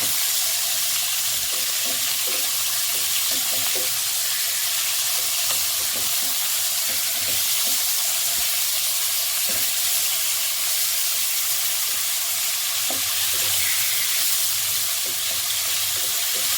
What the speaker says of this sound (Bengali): সব মাছগুলোকে এভাবে ভেজে নিয়ে আবার ফিরে আসছি।